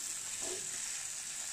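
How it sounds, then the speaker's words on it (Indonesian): Chilies and garlic sauté in a pan with a steady, bright hiss of frying oil, a soft stirring scrape briefly rising partway through, continuous and close without any talking. "Ini kita tumis sebentar sampai agak layu"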